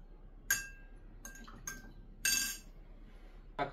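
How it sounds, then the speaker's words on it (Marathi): A spoon clinks against a glass container while mixing a chemical into soap, a few sharp, bright taps spread irregularly over a quiet background. "तर थोडा आपण त्यांना मिक्स करतोय। आणि त्याच्यामध्ये आपण हे केमिकल टाकत आहे"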